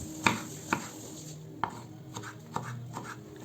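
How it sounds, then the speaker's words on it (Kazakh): A knife slices tomatoes on a cutting board in a few irregular sharp chops, close by, with quiet rustling between the cuts and no talking. "Кейін помидорымызды ұзыншалап, жіңішкелеп турап аламыз"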